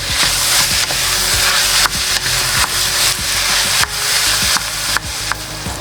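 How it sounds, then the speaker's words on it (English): Ground beef seasoned with salt and pepper fries loudly in a pan for Lebanese rice stuffing: a steady, close sizzle broken by frequent sharp scrapes and taps of a utensil stirring the meat, with no talk. "we're gonna cook it till the ground beef fully cooked"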